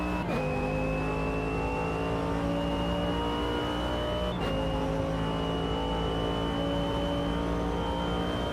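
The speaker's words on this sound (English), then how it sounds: "I didn't mean to downshift." A race car in the Automobilista 2 racing game drones steadily at high revs, its engine note dipping briefly at two gear changes, one near the start and one midway, then climbing and holding again.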